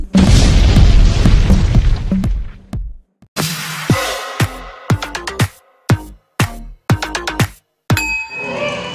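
Comic explosion sound effects in a first-dose vaccine vlog: a loud booming burst fades out, then a string of sharp, ringing pops and dings comes in quick, uneven succession with short silences between them.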